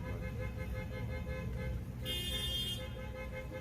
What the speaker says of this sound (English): This guy's honking.